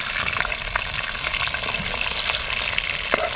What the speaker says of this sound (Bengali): মাংসটা হালকা করে ভেজে নেব।